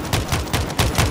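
Rapid bursts of gunfire in the zombie shooter World War Z Aftermath, several close, loud shots in quick succession within about a second, with no talk over them.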